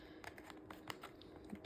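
Typing on a computer keyboard: soft, irregular clicks of keys tapped in quick succession, close and quiet, with no voices.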